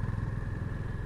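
Honda CB350 motorcycle engine running while being ridden, a steady low throbbing drone with rhythmic pulses, close and continuous for about a second with no talk.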